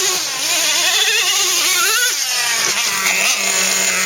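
A $400 T-Maxx remote control monster truck racing up a hill, its small motor whining loud and close with rising and falling pitch as it accelerates, no voices.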